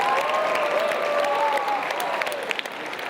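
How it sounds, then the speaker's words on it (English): A crowd of business students applauds Simon Says champions, a dense, steady wash of clapping that fills the room and thins slightly toward the end. "give you Simon Says champions a big round of applause"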